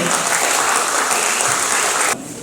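An audience applauds at an Ansan citizens' association general meeting and award ceremony, with a thick continuous roar of clapping that cuts off abruptly near the end.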